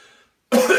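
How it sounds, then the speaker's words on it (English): A single sharp, harsh cough after smoking tobacco bursts out after a moment of near silence, loud and close, following a faint murmur at the start. "and then you cough"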